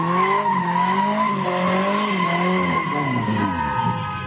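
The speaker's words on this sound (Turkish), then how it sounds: "Adanalı bir sürücü bunların hiçbirini umursamadan trafikte drift yaptı." A car drifts on a busy city street in Adana, tires squealing in a long, wavering screech that rises and falls in pitch, loud and continuous over faint engine noise.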